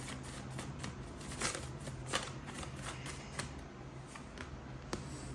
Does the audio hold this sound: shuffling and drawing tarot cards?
yes